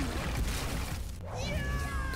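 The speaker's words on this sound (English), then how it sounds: "Cat." A cartoon cat meows in a Miraculous Ladybug episode, a short rising-and-falling call heard near and clear over a dense, loud music and effects bed.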